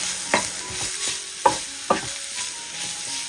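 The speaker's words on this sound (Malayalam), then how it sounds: "പൊടിയുടെ പച്ചമണം മാറി കിട്ടുന്നവരെ ഒന്ന് ഇളക്കി കൊടുക്കാം." Garam masala and other spice powders fry in a pan while a spoon stirs them, sounding as a soft sizzle broken by several sharp scraping strokes, close and clear, with no voices.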